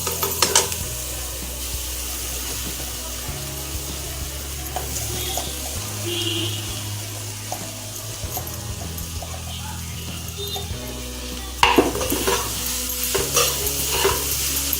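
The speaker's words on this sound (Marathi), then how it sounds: "छान हलवून घ्यायचं आहे।" Soybean bhurji with red chili powder and salt being stirred in a hot pan, a steady sizzle with scraping and clattering of a spoon against the pan, close and continuous, no talking.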